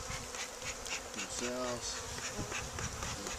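Honey bees from a dark, Carniolan-mixed colony buzzing steadily during a spring hive inspection, a dense close drone throughout, with a person speaking briefly over it.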